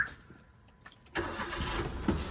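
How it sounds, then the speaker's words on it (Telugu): A Maruti Alto K10 automatic car's engine starts: a quiet pause with small clicks, then a sudden crank that catches into a steady, close idle. "సో నేను ఇంజన్ అయితే స్టార్ట్ చేస్తున్నా"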